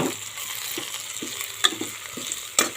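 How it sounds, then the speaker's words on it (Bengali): Spices of turmeric, salt, sugar and cumin stirred into bottle gourd frying in a pan, a soft sizzle beneath scattered utensil scrapes and a few sharp clinks. "তো দেখুন মশলাগুলো আমি সুন্দর করে নাড়াচাড়া করে দিয়েছি।"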